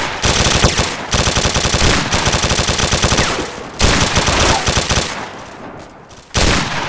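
Gunfire in ArmA 2 with the ACE mod, in a WWII-themed battle: loud, dense bursts of rapid automatic fire in several long strings, separated by short pauses, dominating with no talk over them.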